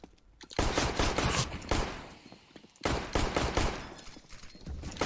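Rapid automatic gunfire in a competitive shooter game, loud and close, in two sustained bursts separated by a short silence.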